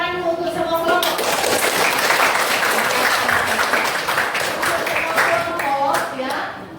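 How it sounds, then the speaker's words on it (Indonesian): A classroom of students claps for all the presenting groups, a dense, steady round of applause that stays loud throughout, with some voices mixed in. "jadi tepuk tangan untuk semua kelompok"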